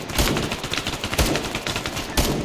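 Rapid gunfire in the Arma Antistasi military game, dense overlapping rifle and machine-gun shots crackling continuously, loud and close with heavier bursts scattered through.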